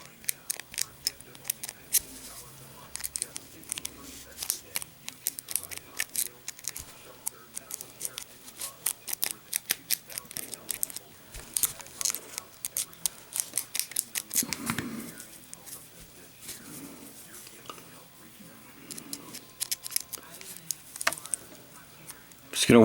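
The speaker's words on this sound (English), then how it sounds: "I'm just going to slide it in the keyway, move the keys around, or the pins around a little bit." A hook pick works inside a Master 4120 padlock's keyway, producing many small, sharp metallic clicks and scrapes in irregular bursts, close and fairly quiet, with someone talking softly over them.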